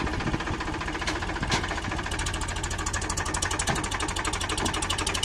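A Powertrac Euro 47 tractor engine runs nearby with a steady, throbbing diesel chug and knocking rhythm, fairly quiet and continuous with no talking.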